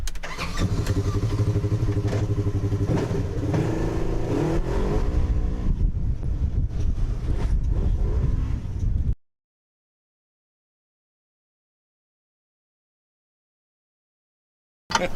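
A Polaris RZR side-by-side out on a trail, its engine droning and revving loudly close by for about nine seconds before cutting to sudden silence, with a brief burst of sound returning at the very end.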